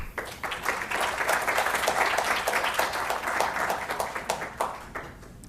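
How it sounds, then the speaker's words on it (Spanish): Audience applause welcoming a moderator to a university economics panel on migration, a dense, steady clapping from a room full of people that holds for several seconds before thinning out at the end. "Los recibimos, por favor, con un cordial aplauso"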